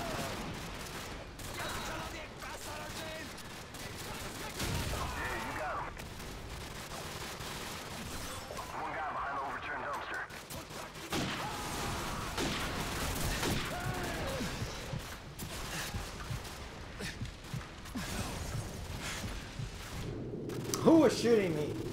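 Scattered gunfire and mechanical weapon clatter in Call of Duty 4: Modern Warfare, a busy continuous mix of shots, reloads and action noise at moderate level throughout, with some speech mixed in.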